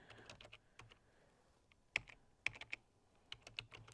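Keys tapped on a computer keyboard while entering a reason into a form, a quiet, irregular series of light clicks with a few sharper strokes, close and alone.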